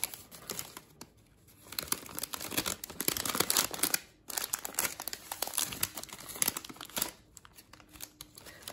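Crinkly plastic or paper wrapping is pulled off a bouquet of roses, with bursts of crumpling and rustling coming and going close by, a short quiet gap midway, and no talking.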